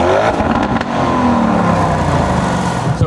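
A Lamborghini Urus engine in Corsa mode revs loud and close, a sustained rising roar over about three seconds with no talking.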